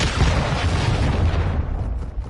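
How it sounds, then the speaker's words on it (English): A cruise missile strike explosion in the video game Modern Warfare 2, one loud, deep boom that rumbles heavily and fades slowly over a couple of seconds, alone without talk. "Hostiles launched a cruise missile."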